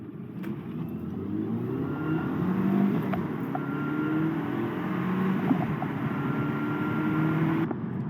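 A Volkswagen Jetta TDI diesel engine hums steadily from inside the cabin while driving, with road rumble and gentle rises in pitch as it accelerates.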